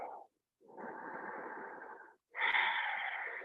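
Slow, deep breaths drawn during a vinyasa yoga flow: a short breath, then a long steady airy inhale, a pause, and another strong, close breath, with no music.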